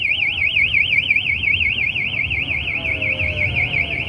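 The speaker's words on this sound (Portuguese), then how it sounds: "E disparou o alarme da moto, gente." A motorcycle alarm blares on a busy downtown street in Teresina, Brazil, its steady warbling siren rising and falling rapidly and loudly over a constant low hum of city traffic.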